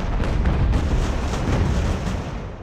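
Ship cannon fire in the naval video game Ultimate Admiral Age of Sail, a dense, continuous rumble of booming artillery salvos, loud and sustained without pause.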